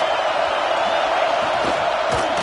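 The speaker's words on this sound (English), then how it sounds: "Listen to this crowd just shaking the girders of this place, trying to help their defense" A college football stadium crowd roaring for the home defense at a Miami game, a dense, loud, sustained wall of cheering and shouting with no break.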